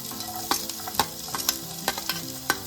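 Green garlic crackles and sizzles in hot oil with repeated sharp spatula taps and scrapes, close and fairly loud.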